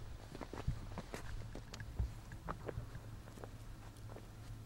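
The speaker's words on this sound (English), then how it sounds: "the only sound you can hear in here are the sounds of your 2 footsteps." Footsteps echo inside a quiet cave, soft irregular steps heard close over a low rumbling background with no voices.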